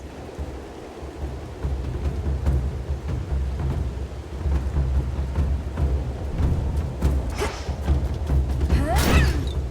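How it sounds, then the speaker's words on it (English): Stormy ambience from the video game Hades II: rolling thunder rumbles build over steady rain, with a sharp, close crack of thunder near the end. "Typhon brought this storm upon the gods."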